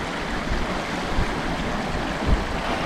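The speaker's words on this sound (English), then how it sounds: "The water's at the junction, it'll be flowing." A creek in Girraween National Park runs over rocks, giving a loud, close, continuous rushing wash with a few soft low bumps and no talking.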